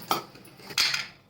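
Two short clinks and scrapes of a mixer grinder jar being picked up and set down on a counter, close by, with no talking.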